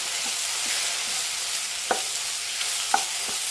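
Okra and onions fry in a pan, a continuous close sizzle broken by a few soft scraping stirs of a spoon against the pan.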